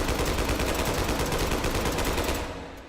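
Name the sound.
gunfire from a gun in the video game H3VR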